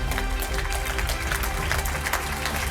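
A crowd at an awards ceremony claps steadily, a dense, even wall of applause that holds throughout with no voices on top.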